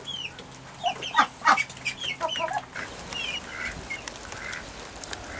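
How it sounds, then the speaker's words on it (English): Hens cluck and chatter inside a hen house while rain falls outside, a burst of close, busy calls early on, then softer scattered clucks over a damp background hiss. "there's other hens in here as well"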